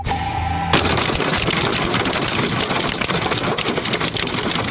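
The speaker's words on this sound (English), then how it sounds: "that is the sound you don't like to hear, and that is a hailstorm in South Carolina Friday" Hailstorm in South Carolina pounds hard surfaces, a dense, loud, continuous clatter of hailstones striking in rapid irregular impacts that begins abruptly after a brief tonal lead-in and roars on without pause.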